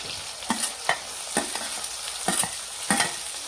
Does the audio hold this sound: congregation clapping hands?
no